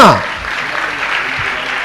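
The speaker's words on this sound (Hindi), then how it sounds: "तालियां तालियां तालियां।" Audience clapping at a spiritual question-and-answer discourse: a dense, steady wash of applause holds at an even level throughout the short stretch after a brief vocal onset.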